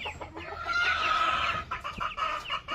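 Chickens and chicks on a small backyard farm clucking and cheeping close up, a busy overlapping chorus of calls lasting the whole moment.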